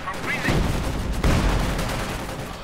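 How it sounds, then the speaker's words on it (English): A sniper rifle fires in a Company of Heroes 2 battle. Sharp, loud gunshot cracks and booms ring out amid ongoing in-game combat noise over about three seconds. "Sniper opening up."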